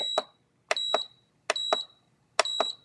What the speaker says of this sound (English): we're going to let that kind of beep, beep, beep a little bit off camera